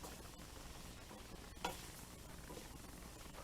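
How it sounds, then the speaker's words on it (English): Garlic cooking in a pan for vegetarian chili, with a soft steady sizzle and faint scraping as it is stirred, plus one brief clatter midway. "Stir that up."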